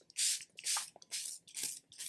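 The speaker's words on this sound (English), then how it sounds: "I'm gonna use one of my longer lasting setting sprays. So this is the Charlotte Tilbury Airbrush Flawless Setting Spray." Charlotte Tilbury Airbrush Flawless Setting Spray misted onto a face in four quick, close hissing bursts with brief pauses between them.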